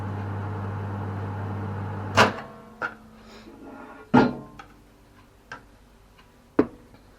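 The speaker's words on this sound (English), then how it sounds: "we are gonna first of all put it in the microwave for 1 minute" A microwave oven runs with a steady low hum for about two seconds while heating curd for mozzarella, then stops with a click, followed by several sharp knocks and clicks of handling, with no talking.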